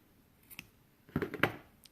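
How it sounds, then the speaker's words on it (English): Scissors snip through crochet yarn with a faint click, then a short cluster of close, crisp cuts and rustling. "And now we can cut the yarn."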